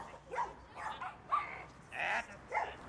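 Dogs bark excitedly at a young boy cycling past during a dog-training lesson, five loud, sharp barks in quick succession over quiet background noise.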